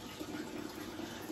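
Water runs steadily through a homemade hydroponic NFT system, a continuous soft trickling and gushing stream at low level with no pauses.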